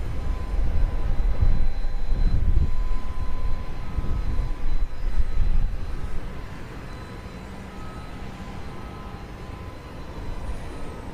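Jet airliner taking off at Dallas Love Field at night, a broad distant engine roar that swells and rumbles for several seconds before gradually fading to a low steady hum.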